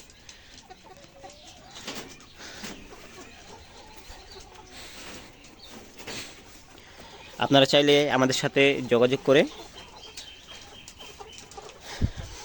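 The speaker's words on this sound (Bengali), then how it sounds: "অলরেডি মুরগির ডাক চলে আসছে" Ready layer pullet hens on a poultry farm, a burst of loud, close clucking for about two seconds midway, with someone talking over steady background noise before and after.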